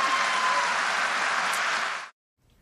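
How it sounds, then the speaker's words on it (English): A crowd at a political campaign event applauds loudly and steadily for about two seconds, then the clapping cuts off abruptly into near silence. "That deserves definitely applause."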